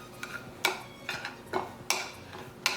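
A spoon clinks and scrapes against a bowl while olive oil and a ginger-paste spice masala are stirred together, giving sharp, evenly spaced taps about every half second, fairly close and moderately quiet with no talking.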